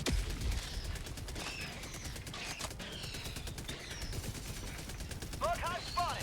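Rapid gunfire in Helldivers crackles in dense bursts alongside mechanical clanks and creaks, moderately loud, with a chattering sequence near the end.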